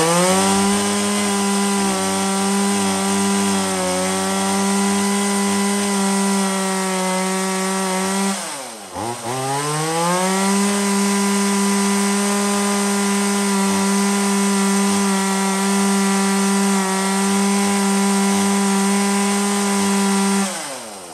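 A Stihl 017 chainsaw idles and revs close by, a loud steady buzzing drone that dips briefly near the midpoint before climbing back to a sustained high run, with no talking.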